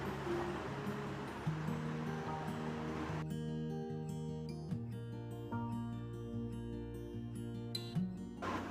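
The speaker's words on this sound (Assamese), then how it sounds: "এতিয়া তেলত আমি দি দিম আদা নহৰুখিনি" Ginger and garlic drop into hot oil with a steady broadband sizzle for the first few seconds, then music with a strong beat takes over and largely buries the frying.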